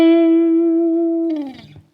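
Electric guitar plays the opening phrase of the solo in a song lesson, starting on a loud sustained, slightly distorted note that bends and fades into a few quicker notes before dying away, no talking.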